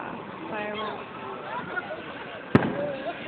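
A fireworks display with a single sharp, loud bang, preceded by fainter distant pops, while people talk and murmur close by.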